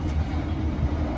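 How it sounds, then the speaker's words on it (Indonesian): Sri Tanjung passenger train rolling into a station, a steady low rumble of wheels and carriages that holds at an even level the whole time, with no voices. "Perjalanan kereta api Sri Tanjung akan segera tiba dan berhenti di stasiun"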